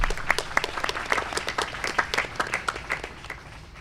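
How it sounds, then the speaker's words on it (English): A small audience at a state board of education meeting claps in a scattered, uneven way, with distinct individual hand claps standing out in a brief, moderately loud burst. "That should get an applause."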